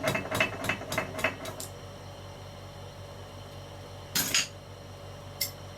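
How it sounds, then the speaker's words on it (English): A hammer with a soft face taps a die-cast toy casting held in aluminium vise jaws, a quick series of about seven light metallic knocks, then quiet, then two more taps as the end lug pops out. "tap on the casting and out pops the end lug"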